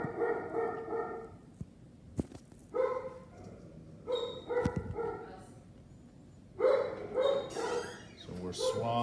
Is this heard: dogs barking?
yes